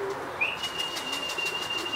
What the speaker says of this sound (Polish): to jest tutaj gołąb od Maćka z gołębnika.